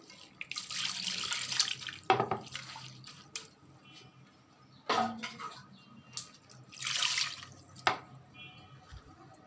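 Water pours in a few separate bursts, splashing and gurgling into a pot of chicken breast with cardamom, with short gaps and clatter between pours.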